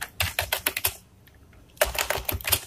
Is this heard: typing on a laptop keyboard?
yes